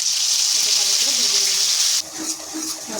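A dry chilli and radhuni seeds frying in hot mustard oil make a bright, steady sizzle close by, which drops abruptly to a softer, uneven crackle partway through.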